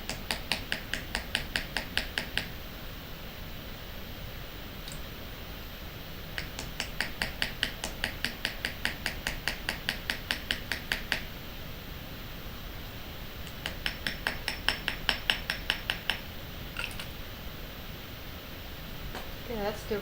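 Rapid bursts of sharp metallic hammer taps flaring a small jewelry rivet, fast runs of blows separated by short pauses, close and crisp over a faint background hiss.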